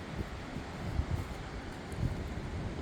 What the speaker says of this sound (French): Là j'ai très peur pour lui quand je vois le vent comme il se lève là.